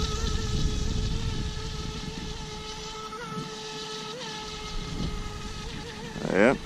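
A Black Marlin MX RC boat running on a LiPo battery gives a steady, thin high-pitched motor whine, fairly loud and continuous, with faint pitch wavers and a brief rise near the end.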